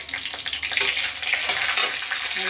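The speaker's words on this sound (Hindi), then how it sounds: "अब तेल जो बचा हुआ है इसी में मैं फ़ोरन डाल दूँगी, तेज़पत्ता और ये जीरा" Bay leaf and cumin seeds tempering in hot oil, a loud, close crackling sizzle with bursts of spattering and light stirring throughout.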